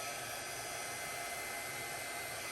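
A hair dryer blows steadily on wet acrylic pour paint, a constant close-up whooshing roar with no pauses across the short stretch.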